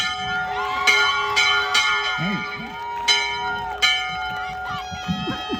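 A bell rings repeatedly at a Class of 2023 ceremony, with bright metallic strikes roughly every second whose long tones ring on and overlap, heard alongside a murmuring crowd and some cheering voices.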